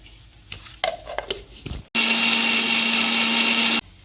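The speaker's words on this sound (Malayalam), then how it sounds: "തക്കാളി നമുക്ക് മിക്സിയിലിട്ട് ഒന്ന് നല്ലോണം അരച്ചെടുക്കാം, പേസ്റ്റ് പോലെ അരച്ചിട്ടെടുക്കാം" A kitchen mixer grinder blends small chopped tomato pieces into a paste: a loud, steady whirring runs for about two seconds after some light clatter, then stops abruptly.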